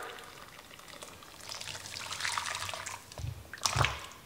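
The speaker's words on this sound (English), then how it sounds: "To our 2 cups of lard, we are gonna add 2 cups of boiling water, and this is gonna melt the lard." Boiling water is poured onto two cups of lard in a kitchen, a soft rising liquid splash and trickle that swells in the middle and ends with a brief louder gush, close and fairly quiet.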